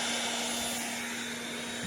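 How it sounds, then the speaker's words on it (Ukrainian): A 765-watt hair dryer running powered by a small solar-panel power supply, a steady loud whirring blow with a constant hum, unbroken for the whole stretch with no talk. "У нас цей фен он вімкнений."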